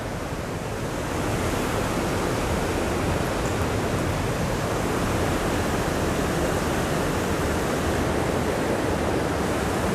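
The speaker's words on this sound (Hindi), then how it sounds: "बहुत स्पीड से जा रहा है पानी" Fast-flowing river water rushes through a channel beside a park in a village near Sacile, Italy, a loud, constant roaring hiss that holds steady throughout with no talking.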